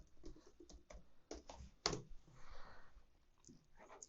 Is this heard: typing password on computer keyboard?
yes